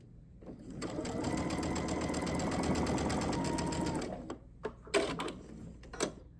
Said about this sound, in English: It's just a straight stitch along the outside of the heart unit.